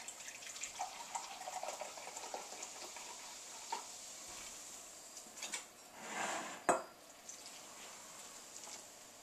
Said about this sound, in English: Let's just mix these together real quick